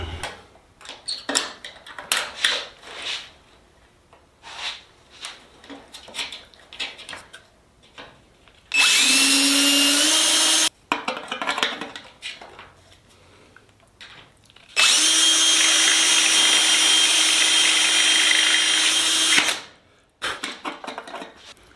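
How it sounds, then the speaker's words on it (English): A power drill whirs loudly in two sustained runs while drilling out a Sonex aircraft turtledeck, separated by stretches of clattering and tapping as work goes on between them. "then start drilling it out"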